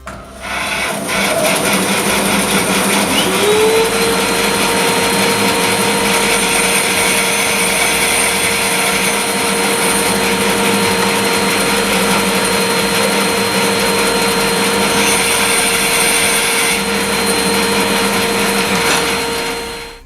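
A bandsaw cuts a wooden tenon, guided by a mitre slide, with a loud, continuous whining drone and rasping buzz that holds steady for nearly the whole stretch before easing off at the close.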